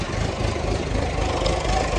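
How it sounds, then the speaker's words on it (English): A Perkins diesel engine runs steadily just after starting on an old scrap vehicle, a close, loud, rough low rumble with no talk. "Oh, Perkins engine. It may smoke like a sod, but"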